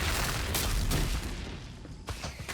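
Dense, continuous gunfire and booming blasts fill a chaotic combat scene in the fantasy game Avowed, with a few louder bursts rising out of a steady roar of shots and impacts.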